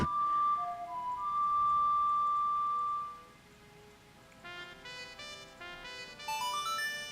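A short pipe-like melody plays in The Legend of Zelda: Majora's Mask over a rainy ambient background, then a quick run of bright ascending chime notes follows.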